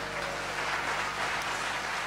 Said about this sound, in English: Please give them a round of applause once again